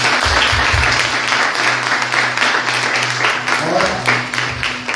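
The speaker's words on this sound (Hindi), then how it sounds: "आइए हम यीशु के लिए जोरदार ताली बजाएं।" A church congregation at a Wembley service claps loudly for Jesus, a full, sustained roar of applause with a steady low hum running underneath and some voices mixed in.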